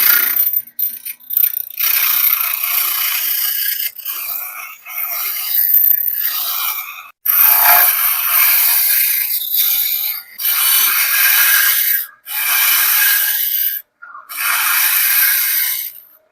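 A bench grinder wheel used for sharpening woodturning tools is dressed flat with a dressing tool. Loud, harsh, rattling grinding comes in repeated bursts of a second or two, broken by short gaps, with no voices.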